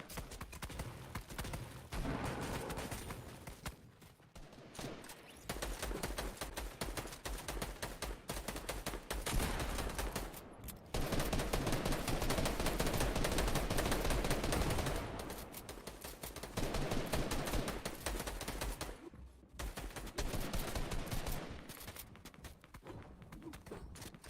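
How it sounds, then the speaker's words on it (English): Dense, continuous gunfire from a Fortnite match, rapid bursts of shots layered over each other in a loud barrage with brief lulls, no voices present. "Lots of shots fired and actually extremely close to the Saints here"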